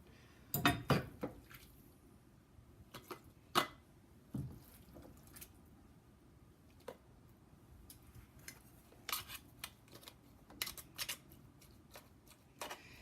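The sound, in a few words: ladling cooked ground beef into pint-sized jars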